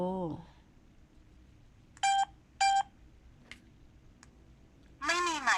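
Two short touch-tone dialing beeps sound close together, with brief speech before them and another voice near the end over a faint background hum.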